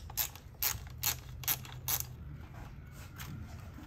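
A hand ratchet clicks in five quick, faint turns while removing an AC line on a B7 Audi A4 during a front mount intercooler install, followed by low workshop hum.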